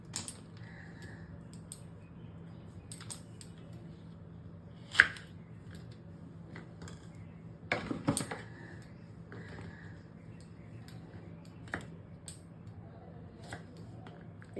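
Knife chopping washed okra (bhindi) on a board, sharp scattered cuts in an irregular rhythm with a few louder clusters, close and fairly quiet in an otherwise still kitchen.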